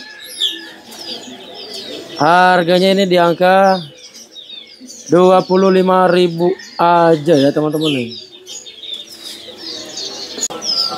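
Small songbirds, including a great reed warbler, chirp and tweet faintly throughout at a bird market kiosk in Pramuka Market, East Java. Someone talks loudly over them in several bursts.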